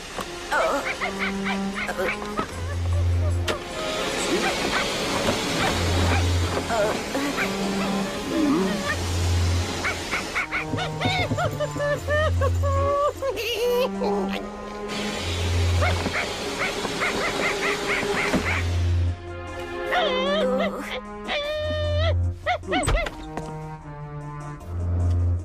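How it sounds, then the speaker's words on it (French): A cartoon dog barks and whimpers over a steady looping music bed, with repeated yips and whining cries spread across the scene, fairly loud and close, while characters talk at times. "C'est bizarre, on aurait dit un chien."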